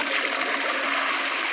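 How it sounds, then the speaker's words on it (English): A toilet flushing, water rushing and splashing steadily and loudly close by for the whole moment, with no voices. "BEEPLE has required the toilet flush"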